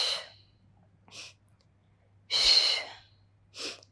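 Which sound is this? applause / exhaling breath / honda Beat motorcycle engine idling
exhaling breath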